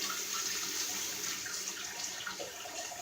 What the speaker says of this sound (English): And you just rinse that out real quick and put it in your recycle.